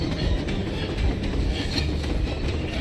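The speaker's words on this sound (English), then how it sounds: "How to just jump in front of that, you know, moving train that's parallel to us" Moving train in the game Metro Exodus, a continuous loud rumble of wheels and cars passing close by, with a dense rattling roar throughout.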